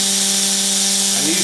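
An air-powered buffing tool with a wool pad runs with a steady, loud, high buzzing drone, its pitch shifting slightly near the end of the short burst.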